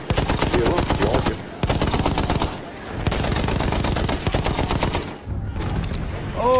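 Rapid automatic gunfire rattles in dense, fast bursts in the video game Battlefield 1, loud and close, with brief pauses between volleys.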